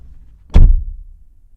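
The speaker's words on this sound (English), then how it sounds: "let's go ahead and shut the door" A 2020 Mazda 3 Premium AWD sedan's door shuts once with a single solid, deep thunk, close and loud, then fades quickly into quiet.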